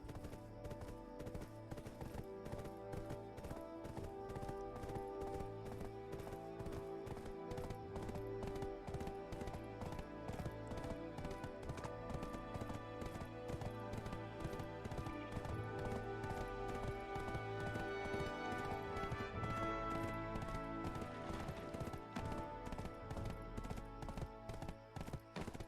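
Horse hooves from the video game Black Desert, a rapid, steady clip-clop of a galloping mount repeating throughout over faint background music, fairly quiet.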